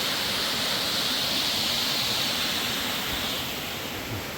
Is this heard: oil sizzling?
no